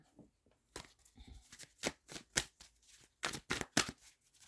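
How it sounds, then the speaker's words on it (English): Quiet, close rustling and riffling of tarot cards being shuffled, coming in short irregular bursts with brief pauses between. "let's shuffle this one time"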